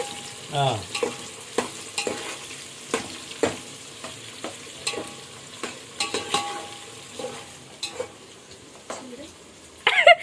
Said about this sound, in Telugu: ఉల్లిపాయలు పచ్చిమిరకాయలు వేసేలా బాగా ఫ్రై అవ్వాలా